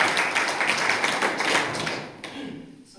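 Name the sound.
audience applause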